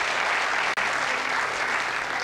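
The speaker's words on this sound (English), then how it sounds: "Give Kay a round of applause." Studio audience on a television game show clapping steadily for a contestant, a dense even roar of hands with one brief dropout partway, otherwise uninterrupted and without talk.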